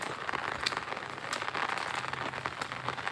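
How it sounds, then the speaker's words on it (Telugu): Steady rain pattering on a hard surface, dense and even, with scattered louder drops close by and no voices. "వర్షం కొడుతుంది"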